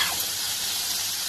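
Onion, tomato and ginger-garlic masala is being sautéed in a pan. A loud, steady sizzle and hiss of frying runs close and continuous, with no talking.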